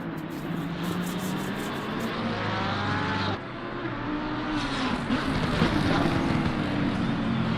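A Porsche 589 race car in a sim racing game at the COTA circuit, its engine a loud continuous roar with shifting pitch as it passes, other car engines droning alongside.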